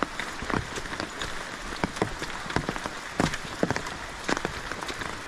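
Steady rain falls in the Sinharaja rainforest in Sri Lanka, a dense hiss of drops on leaves and surfaces with frequent close, sharp individual splats scattered throughout.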